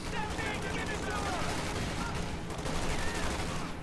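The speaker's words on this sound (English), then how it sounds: "I'm getting off some good anti-tank rifle grenades" Company of Heroes 2 battle: anti-tank rifle grenades and gunfire crackle in a dense, continuous barrage of overlapping bursts and explosions, loud and busy throughout.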